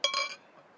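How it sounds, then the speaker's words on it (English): A bottle of Woody's Bark stout beer being opened, a brief bright metallic clink of the cap coming off, close and alone, quickly fading. "So, open the bottle like this"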